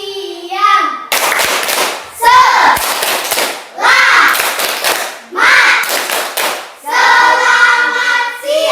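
A classroom of children performing a rhythmic clapping chant, bursts of sharp, loud unison hand claps alternating with chanted voices in a repeating pattern.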